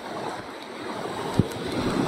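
Sea waves wash steadily at a fishing spot, a continuous broadband surf roar with wind noise on the microphone and one brief sharp knock partway through.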